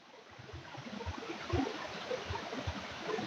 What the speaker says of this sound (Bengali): কত ফোর্সে জলটা আসছে উপর থেকে